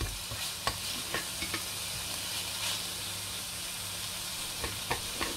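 Minced meat frying in a pan with onion, coriander, parsley and spices, stirred with a steady sizzle throughout and occasional soft scrapes and knocks of the utensil, close up, with no talking.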